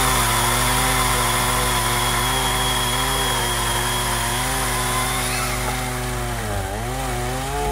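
Husqvarna and Milwaukee chainsaws run together in a loud, steady, close buzz with layered engine whines; one pitch dips and wavers briefly near the end, with no speech.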